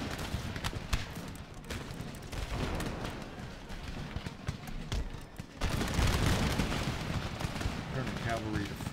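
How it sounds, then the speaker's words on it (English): Cannon fire and musketry in an Empire: Total War battle, a dense rumbling barrage of repeated booms and crackling volleys, heavier in the latter part. "We're going to start bringing the cannon fire down there."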